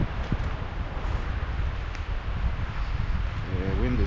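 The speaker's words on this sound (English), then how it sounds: "the wind is getting stronger." Strong wind blows steadily through a thinned forest, a dense roaring rush with buffeting on the microphone and occasional rustles, loud and continuous throughout.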